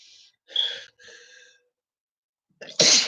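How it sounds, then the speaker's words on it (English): A person sneezes, with sharp intakes of breath and a gasp building up before a loud, abrupt sneeze bursts out at the end, close and alone. "gotta sneeze one more time"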